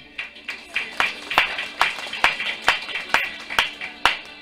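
Applause rings out inside a church during a wedding ceremony, a run of sharp, regular claps spaced evenly and echoing, steady and fairly loud.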